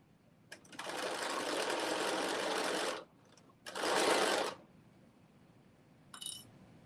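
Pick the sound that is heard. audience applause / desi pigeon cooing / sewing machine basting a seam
sewing machine basting a seam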